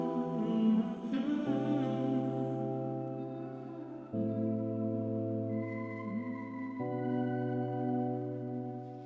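Sustained synth pad chords from a sine-based preset, soft bell-like sine tones changing every couple of seconds in a slow, simple progression, played alone without voices.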